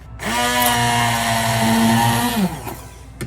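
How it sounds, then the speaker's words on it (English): An immersion blender whirs through dill and mustard sauce in a single loud burst lasting a couple of seconds, its motor tone dipping and sliding as it works before cutting off. "and then I use my immersion blender"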